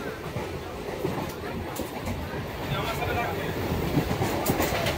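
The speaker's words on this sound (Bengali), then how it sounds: "ফাইনালি গাইজ আমাদের ট্রেন চলে এসেছে আর এখন আমরা সব ট্রেনে উঠছি" A passenger train at a station as friends board for a trip to Digha, with continuous rumbling and rolling rail noise and a murmur of people nearby.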